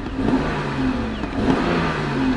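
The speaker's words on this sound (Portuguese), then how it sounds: "vê se vocês conseguem ouvir o turbo do carro, olha só" BMW X6 with a turbocharged engine revving up near the front of the car, a loud mid-pitched drone rising and falling in two swells with a faint turbo whine.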